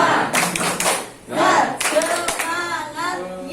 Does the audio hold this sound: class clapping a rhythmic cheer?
yes